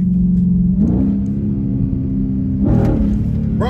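A car engine in sport mode revs hard and accelerates, a loud steady drone with a rising surge near the end, close and continuous with no talking.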